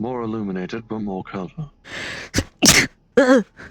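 A person sneezes sharply near the mic right after a short stretch of speech, a breathy intake followed by a burst, with more voices around it in a roleplay game session.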